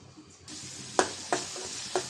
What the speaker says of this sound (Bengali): হলুদের গুঁড়া, অল্প পরিমাণ ধনিয়ার গুঁড়া, লবণ। মশলাটা ভালো করে কষাই নেব।